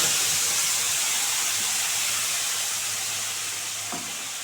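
Spice paste fries in hot oil, giving a loud, steady hiss and sizzle that fades slightly over time, with a faint clink near the end.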